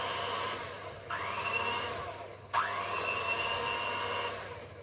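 An electric whisk mixes batter for a coffee and walnut cake, its motor starting up twice and rising to a steady high whine each time, close and fairly quiet.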